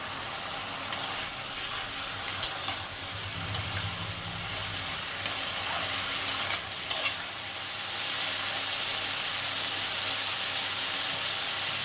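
Fried lentil dumplings (bori) dropped into bottle gourd greens in a hot pan, bringing a steady close sizzle of frying with a few clacks and stirring knocks, no talking.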